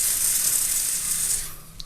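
Carburetor cleaner sprayed through a motorcycle fuel injector held in a tool: a loud, close hissing spray lasting about a second and a half, then cutting off with a faint rattle.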